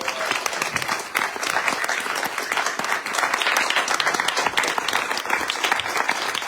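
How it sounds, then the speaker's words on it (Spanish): An audience at a comics talk applauds vigorously, with many sharp individual claps in a steady, loud ovation that continues throughout. "Un aplauso, gracias, Cacho Vázquez."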